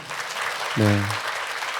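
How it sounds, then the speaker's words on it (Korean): Applause from a congregation during a church service, a soft steady wash of clapping throughout, with a brief low spoken voice cutting in near the middle. "귀한 말씀 나눠주신 우리 김금주 교수님한테 우리 감사합니다라고 우리 박수로"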